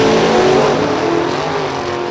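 Dragsters at Kil-Kare Dragway roar in a loud, sustained blast that fills the air, a dense, steady engine howl heard up close, with no talk over it.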